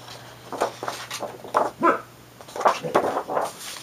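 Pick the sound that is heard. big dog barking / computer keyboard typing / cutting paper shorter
big dog barking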